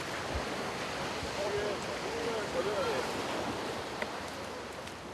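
Surf rolls and breaks along a rough island shoreline, a steady wash of ocean waves with wind noise buffeting the microphone at moderate distance.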